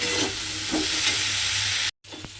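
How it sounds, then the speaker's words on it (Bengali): Spices sizzle loudly in a pan with chickpeas and potatoes as they are stirred and fried, a dense steady hiss with scraping strokes that drops out briefly near the end. "খুব ভালোভাবে কিন্তু আমাকে মশলাটা কষিয়ে নিতে হবে"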